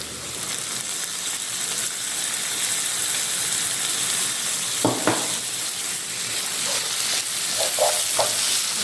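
Tomatoes frying with chilies in a pan for a Manado-style fried skipjack tuna dish, a steady loud sizzle with a few stirring scrapes and clatters near the end, no talking.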